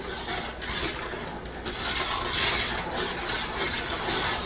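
Thick liquid malt extract being stirred into a home-brewing pot for an English porter, heard as a steady rasping, scraping rub of a spoon against the pot, continuous and close with no voices.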